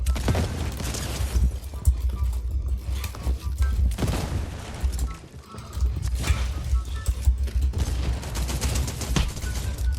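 Shotgun fire in the Fortnite battle royale game, several loud sharp blasts in irregular bursts with a short pause in the middle and a voice talking under them.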